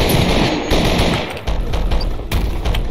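A gun in a Minecraft adventure fires a full clip in a rapid, continuous burst of close, loud shots lasting several seconds.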